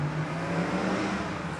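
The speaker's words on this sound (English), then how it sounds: "Sorry about the noise, I'm right by the road" Roadside traffic, with a car passing nearby, gives a steady broadband whooshing engine rumble throughout, moderately loud and with no talking.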